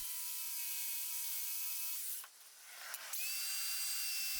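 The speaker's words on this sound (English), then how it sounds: "Some quick work with the saw" Power saw cutting a boat hull transfer mold, a steady high whine that dips briefly as the blade bites, then resumes at full pitch.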